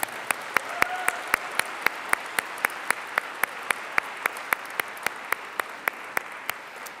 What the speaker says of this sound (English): let's have one more round of applause for all of our teams tonight